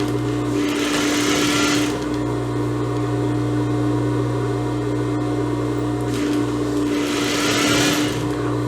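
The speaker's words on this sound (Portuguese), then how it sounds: "coloco no avesso da peça e venho passando a costura" A sewing machine runs a steady, fast stitching buzz with a strong motor hum as it sews a fabric strip onto the wrong side of an eyelet blouse. It is close up and continuous, with brighter bursts at the start and near the end.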